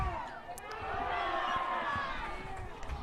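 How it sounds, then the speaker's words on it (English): A crowd at a high school baseball game, Heights against the Lake Ridge Eagles, cheers steadily for a batter stepping up to get on base, a sustained roar of voices with some nearer shouts. "Crowd getting into it, really trying to spur Morgan on, get him on base."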